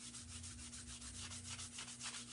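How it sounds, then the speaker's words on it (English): A Dixie Belle sanding sponge rubs back and forth over painted wood on a coat rack, making steady, close, rhythmic scratchy strokes with a constant low hum underneath. "I'm just using a Dixie Belle sanding sponge"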